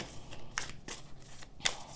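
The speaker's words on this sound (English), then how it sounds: "So I'm just going to shuffle the cards a bunch while I talk" A deck of tarot cards is shuffled by hand in a quiet room, with two crisp, quick bursts of card slaps and softer sliding between them, close and fairly faint.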